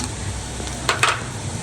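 Cubed capsicum goes into a hot pan already holding carrot and onion, bringing a soft steady sizzle with two brief brighter spatters near the end, close and fairly quiet.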